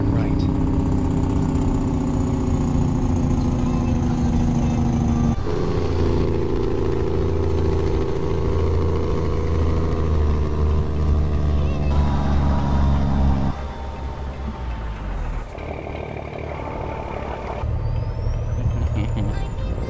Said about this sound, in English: Should we hear the jake break?